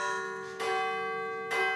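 A bell at London's Whitechapel Bell Foundry rings twice with bright metallic strikes. Long sustained tones decay between the hits at a moderate, quiet level.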